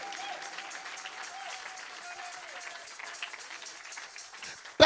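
A church congregation at a Paris service applauding: steady, fairly soft clapping throughout, ending in a sharp loud burst, with a voice heard over it.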